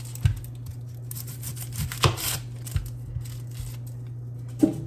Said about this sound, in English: I'm gonna cut an onion.